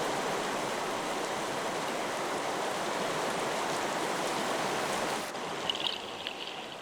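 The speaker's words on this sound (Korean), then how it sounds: "반가운 비가 내린다." Steady rain falling over a swollen river stream in mid-October, a continuous even hiss and rush of water that eases slightly near the end.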